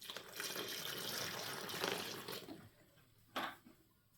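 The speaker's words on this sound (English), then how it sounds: "I've just got a bucket of water here, and we're going to pour some on it." Water poured from a bucket onto dry potting soil for starting seedlings, a faint steady splashing pour that thins out, then one brief final slosh.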